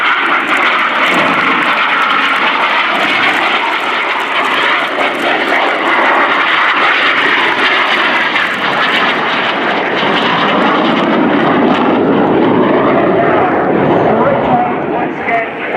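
RAF Red Arrows jets at RIAT 2015 roar through a flying display, a loud continuous jet engine rush with a public-address voice talking over it.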